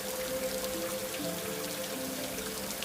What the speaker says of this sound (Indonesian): ditemani dengan guyuran hujan yang membasahi sekujur tubuhku